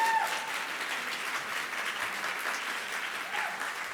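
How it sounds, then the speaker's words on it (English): Applause fills the hall at an annual awards ceremony, a dense, even wash of many hands clapping at moderate distance, holding steady without a break. "Please join me in giving them a round of applause."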